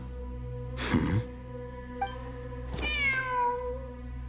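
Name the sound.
cat meowing in the video game Genshin Impact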